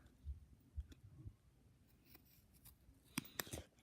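Scissors snip a slit in doll jacket fabric: a few quiet, close cuts and soft handling rustles, with a cluster of sharper crisp snips near the end.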